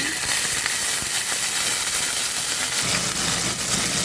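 A loud, continuous hissing sizzle with scattered crackles as water is poured into a pan of hot oil with curry leaves, steady throughout.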